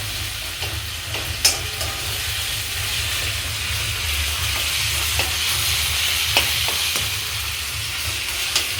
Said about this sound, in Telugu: ఇలా అల్లం వేసి మంచిగా కలుపుకోవాలి